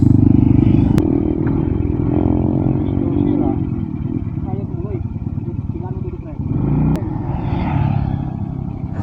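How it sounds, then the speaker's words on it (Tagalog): A father's freshly repaired motorcycle is test-ridden, its engine rumbling and revving unevenly close by, with voices talking over it throughout. "sinubukan ng tropa natin yung motor ni tatay kung talagang gumagana na"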